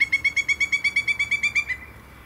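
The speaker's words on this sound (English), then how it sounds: "that is a pileated woodpecker that we just heard" A pileated woodpecker call played back through a phone speaker on a nature hike: a rapid, even series of about fourteen loud, high, ringing piping notes that stops abruptly, with no talking over it.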